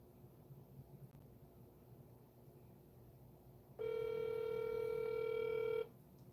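A telephone handset sends a steady, loud electronic dialing tone lasting about two seconds after a quiet stretch of low background hiss.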